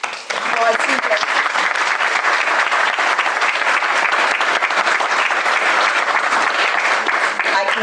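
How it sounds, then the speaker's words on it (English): Sustained applause from a commencement ceremony audience fills the room, dense, even and loud throughout, with no pauses. "So we'll applaud CJ."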